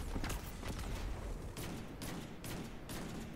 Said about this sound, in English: I can shoot four rockets in a row